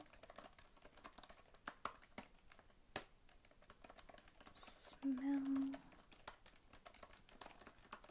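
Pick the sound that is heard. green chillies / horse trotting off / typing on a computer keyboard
typing on a computer keyboard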